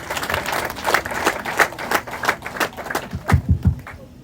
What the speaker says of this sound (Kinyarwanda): Twongere Imana amashyi.